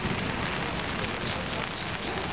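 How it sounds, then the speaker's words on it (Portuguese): Gentle rain falling steadily, a dense even hiss of drops with no pauses, loud and close without talk. "Ainda bem que essa chuva mansa."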